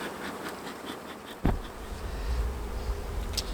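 Honeybees buzz steadily around an open wooden beehive, a close, continuous insect drone with one brief sharp knock partway through and no voices.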